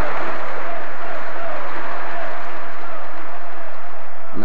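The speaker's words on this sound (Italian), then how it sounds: "Sono stati gli ultimi applausi dei laziali, dei tifosi, per Luciano" Lazio football fans fill a church at a memorial mass with loud, sustained applause, a dense roar of clapping with crowd murmur beneath it throughout.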